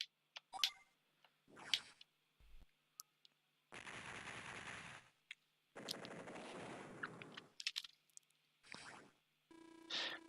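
A battleship firing in the Advance Wars video game, a series of sharp synthetic bursts and rattling gunfire blasts with short gaps of silence, loud and close.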